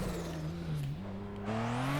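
A Toyota Supra engine in the Assetto Corsa racing game holds a high, sustained drift whine, the pitch dipping then climbing as the throttle changes, with faint tyre hiss, no voices.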